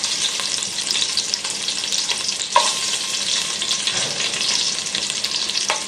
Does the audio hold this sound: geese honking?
no